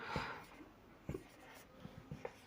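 Pen or marker writing out vitamin names on a board or page during a lesson, a few short scratchy strokes at close range, soft and separated by quiet pauses.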